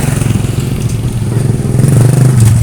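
A motorcycle passes close on a street, a loud, steady engine drone that swells slightly as it nears, heard from a pedestrian's position with no talking.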